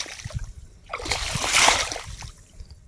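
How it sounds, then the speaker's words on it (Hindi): Water in a farm field is stirred by hand, giving a few soft splashes and sloshes that swell to one fuller swirl in the middle before fading, heard up close. "पानी हिला के देखते हैं"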